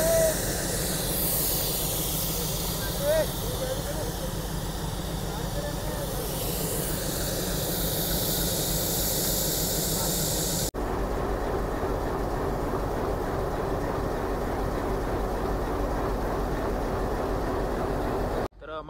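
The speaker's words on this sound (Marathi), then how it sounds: "पुढं सरकत आहे ट्रेन दमादमाने." A train hauling a load of rails creeps forward on the new Beed railway line, its steady hiss and rumble continuous and loud, with wind-like noise over the track sound.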